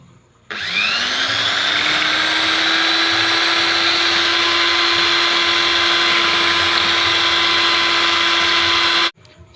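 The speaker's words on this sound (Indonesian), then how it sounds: "Lalu kita mixer." Electric mixer whipping an ice cream mixture, a loud steady motor whine that starts abruptly, runs continuously at even speed for about nine seconds, then cuts off, with no talking.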